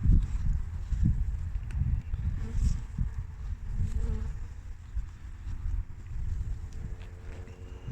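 Honey bees in a nucleus hive, feeding on candy, buzz in a soft, continuous drone at close range, with faint bumps and knocks in the background.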